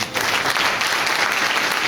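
Church congregation at an Easter service applauding, a dense burst of many hands clapping together, loud and close, lasting the whole short moment.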